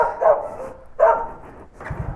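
A dog barks nearby, two loud sharp barks about a second apart followed by a softer yip, outdoors with no talking.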